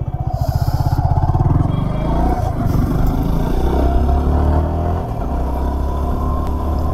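A motorcycle with a fuel-injected engine idles with a rapid pulsing throb, then revs and pulls away, its engine note rising and settling into a steady loud drone while riding.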